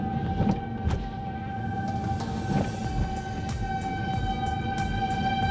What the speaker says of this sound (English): I don't know if you can hear the sirens or not, but the thing's pretty close.